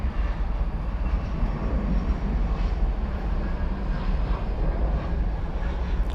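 An American Airlines jet, Flight 2777 to Los Angeles in a special livery, departs DFW Airport with a steady, distant broadband engine roar that holds evenly throughout, with no one talking.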